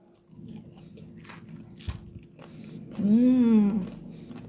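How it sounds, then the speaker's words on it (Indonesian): Crunchy fried chicken (ayam geprek) being bitten, with a few sharp crisp crunches close to the microphone followed by a short murmured voice. "Kriuk banget ya."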